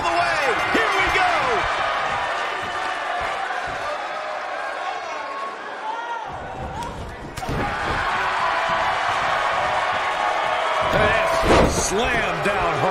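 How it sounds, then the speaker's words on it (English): A wrestler is slammed hard onto the mat in WWE 2K19, a heavy thud amid a noisy arena crowd and commentary, with a sharp impact burst near the end. "Slam down hard."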